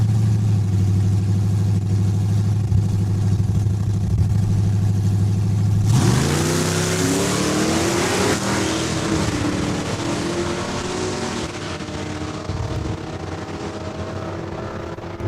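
Drag race cars launching side by side down a drag strip at Saskatchewan International Raceway, one a Mustang: a steady idle drone breaks into a loud roaring acceleration that rises in pitch and holds for several seconds as they pull away.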